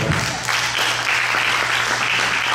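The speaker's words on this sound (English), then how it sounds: "Brother Adiele, give him another clap." An audience at an entrepreneurship talk gives a steady round of applause, dense and fairly loud, with a low electrical hum running underneath.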